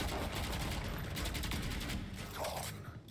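Rapid gunfire in the game Valorant during a college esports match, dense overlapping bursts and fusillades, loud and continuous before tailing off at the end.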